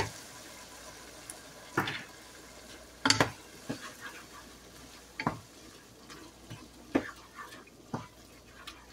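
A spoon stirs a pot of Bisaya-style mung bean soup, making scattered knocks and scrapes against the pot over a faint bubbling background.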